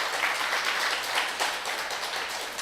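Church congregation applauding to welcome first-time visitors during a revival service, dense steady clapping filling the room throughout at moderate level.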